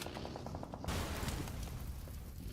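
Gunfire in a PUBG Mobile esports match, a rapid string of sharp shots up front followed by dense, roaring game noise that carries through to the end.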